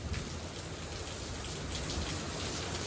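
Rain from a storm near a hail core, falling steadily on a surface as a dense, even wash of drops, continuous and fairly quiet with no talk.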